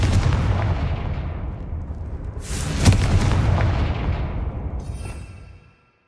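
A Confringo blasting spell in a Harry Potter video game lets off a heavy, booming explosion: a rumbling blast, then a sharper crack that rolls off and fades to silence.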